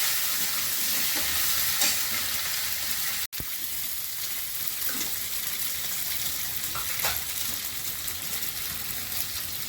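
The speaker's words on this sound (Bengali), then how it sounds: "এবার আমি জিরাটা ফোড়ন করছি, জিরা একটু বেশি ফোড়ন করছি।" Cumin seeds tempering in hot oil for jira aloo in a home kitchen, a steady loud sizzle and crackle that runs throughout, close up, with one brief sharp drop partway.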